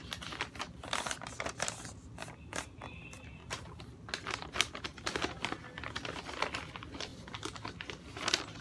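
Paper being folded and creased for an origami ninja star: close, crisp crinkles and soft rustling bursts come in irregular clusters throughout, with no talking over them.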